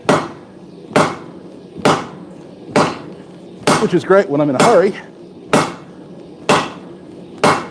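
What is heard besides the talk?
heavy hammer forging steel by hand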